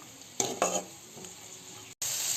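Cauliflower and koi fish sautéing in a pan with a little water added, a steady soft sizzle with a couple of sharper stirring scrapes near the start and a brief gap before the sizzle resumes.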